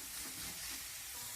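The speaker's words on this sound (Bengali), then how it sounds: "আমি সব কিছু নেড়ে চেড়ে একটু ভাজা ভাজা করে নেব।" Onion, ginger, garlic and chili fry in a pan with a soft continuous sizzle and hiss, a faint steady crackle lasting only a moment.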